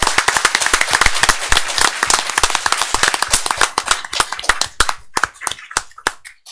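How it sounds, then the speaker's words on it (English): Audience applause for a top-100 national school rocket team at a school board meeting: dense, loud clapping from many hands that thins into scattered individual claps before fading out. "Let's give them a round of applause."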